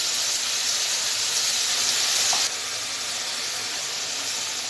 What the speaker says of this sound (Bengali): মশলাটা ভালো করে কষিয়ে নেব যতক্ষণ তেল উঠবে না